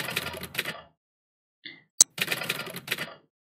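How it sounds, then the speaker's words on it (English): Typewriter typing sound effect: bursts of rapid mechanical key clacks, a short pause, a ding-like tone and a sharp carriage click, then more quick clattering keystrokes. "select sound effect, select type on typewriter alone"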